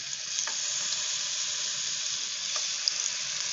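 Egg frying in hot oil in a pan, a steady broadband sizzle with faint crackles throughout, close and continuous with no talk.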